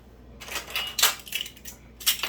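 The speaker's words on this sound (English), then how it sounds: "So now I'm getting ready to get my little skillet here." Small metal skillet picked up and handled in a home kitchen while making brownies, several close, sharp clanks and rattles in quick succession.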